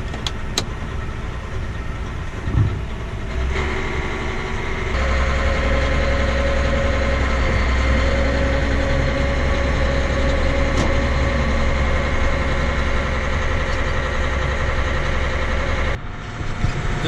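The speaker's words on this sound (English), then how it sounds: "Give the tractor a little chance to warm up before we run her wide open" A John Deere 9630T tractor engine idles while warming up before spring field cultivating, a steady, loud low rumble with a constant drone that holds throughout and no talk.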